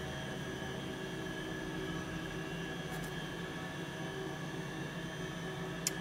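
A diesel-driven 1500 bar, 20,000 psi water jetting machine with a 110 litre per minute flow runs steadily, a constant broadband engine and pump drone with a faint hum and one brief tick near the end.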